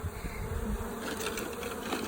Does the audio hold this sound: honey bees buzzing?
yes